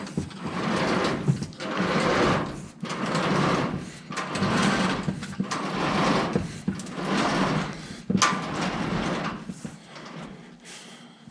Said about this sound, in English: we need to open the curtain to get to movie theater speakers